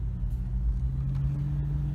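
A built 1997 Jeep Cherokee XJ with 4.8 gears and 35-inch tyres cruises down the road, its engine a low, steady rumble heard faintly from inside the cabin.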